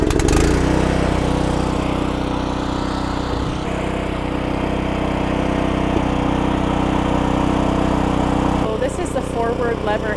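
A Champion 19-inch garden tiller's gas engine fires up and runs loud and steady throughout, a constant close-up drone with a brief shift in tone near the end.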